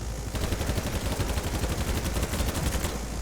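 Automatic weapon fire with recoil in BattleBit Remastered, a rapid steady burst of loud gunshots running continuously for about three seconds without pause.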